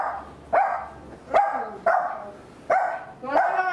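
A dog barks five times in sharp, evenly spaced bursts, close and loud, in a house.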